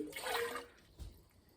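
Liquid with grounds in it is poured from one container into another, a brief splashy trickle lasting about half a second before fading into quiet room tone.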